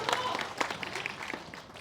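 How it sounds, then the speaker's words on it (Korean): Audience applause at a memorial ceremony in a hall, a scattered crowd clapping at moderate distance while a voice talks over it. "박수로 전해주시면 대단히 고맙습니다."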